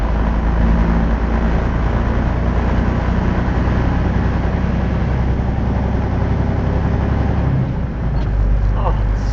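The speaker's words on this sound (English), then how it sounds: "now we're going to shift with the Jake brake off" A truck's engine drones loud and close from inside the cab as it shifts gears with the Jake brake off, the steady low rumble dipping briefly near the end during the shift.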